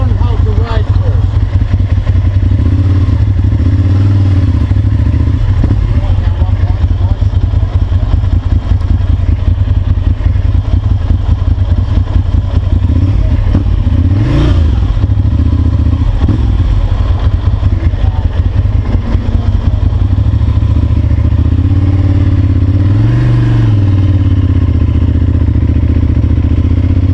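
A Ducati 796 Monster motorcycle with its engine and exhaust running loud and steady up close, a constant rumbling drone that swells slightly in a couple of places.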